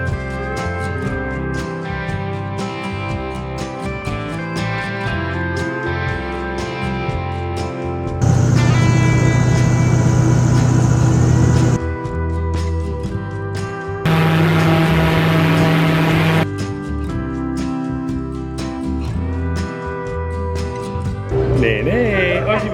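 A large outboard motor on a swamp tour boat in the Lafitte wetlands of Louisiana roars loudly in two sustained bursts, with quieter engine rumble and background noise between them.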